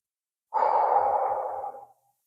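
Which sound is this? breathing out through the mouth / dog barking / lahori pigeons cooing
breathing out through the mouth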